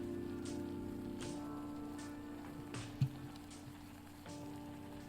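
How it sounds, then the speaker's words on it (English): Steady rain patters on a surface as a soft, even wash with faint individual drops, plus a brief knock partway through. "Good old rain."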